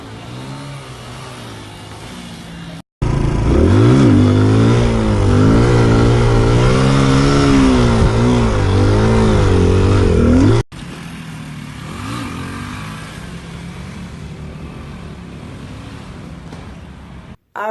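A motorcycle engine revs hard and steadily through a staggered wheelie, with a loud sustained roar whose pitch wavers and climbs between a quieter idle before and after.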